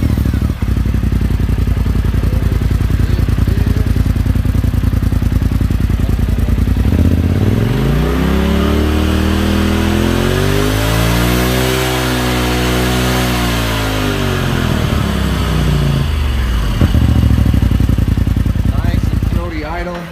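A 2018 Polaris RZR Turbo twin-cylinder engine with a Trinity Racing slip-on exhaust idles, then revs up in a long rising and falling sweep before dropping back, loud and close with a raspy exhaust note.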